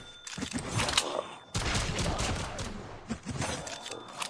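Pistol fire in the video game Call of Duty Mobile Zombies, a series of sharp game gunshots in quick bursts with a brief pause, close and punchy.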